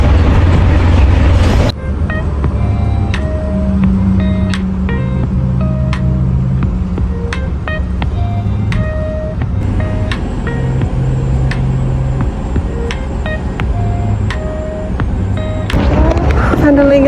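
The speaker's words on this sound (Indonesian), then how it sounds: "Sekarang aku udah ada di bus yang kedua dan akan menempuh perjalanan sekitar 25" Inside a moving city bus, a steady low engine rumble and road noise carry on throughout, with scattered rattles, clicks and brief beeps.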